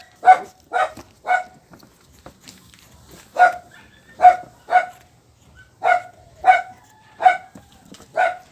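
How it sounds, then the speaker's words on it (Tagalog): A small dog barks sharply in short clusters of two or three, about a dozen barks spaced by brief pauses, close and clear against a quiet home background. "Ito yung aso namin."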